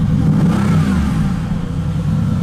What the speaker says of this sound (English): The V8 comes to life.